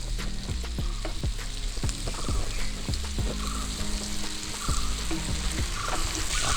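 Onion and red masala paste fry in a pan with a steady sizzle, cut by repeated sharp scraping strokes of a stirring spoon at an irregular rhythm, close and fairly loud.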